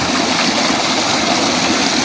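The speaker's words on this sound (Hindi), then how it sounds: "बहुत ही शानदार पानी का प्रेशर है" Strong, steady water gushing from a solar-powered tubewell on an 8- or 10-inch bore, a loud continuous rushing splash with no pauses and no voices.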